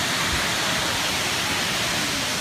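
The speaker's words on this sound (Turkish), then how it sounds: "İkinci şelaleye ulaştık." Waterfall in Hamilton, a loud, dense, unbroken roar of falling water filling the whole moment with steady hiss, heard close up and alone.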